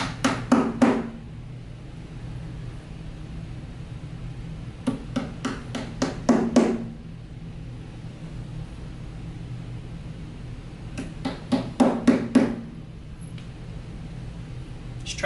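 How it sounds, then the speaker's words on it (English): Hammer strikes drive floor protectors into the corners of a Ludlow two-drawer cabinet, coming in three quick bursts of sharp, close taps with quiet pauses between. "You're going to need your hammer to hammer these in."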